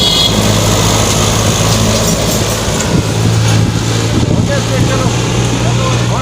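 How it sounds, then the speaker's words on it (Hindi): A tractor pulling a trolley rumbles along a mountain road near Abbottabad, its steady low engine drone continuous and fairly close, with a person talking over it. "गाड़ी आ रही है इधर से, ट्रैक्टर ट्राली आ गया इतने में"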